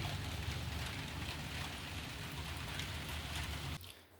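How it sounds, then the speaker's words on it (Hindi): Steady rain pours outside as a dense, even hiss that continues for several seconds, then drops off abruptly near the end. "बाहर तो बारिश हो रही है"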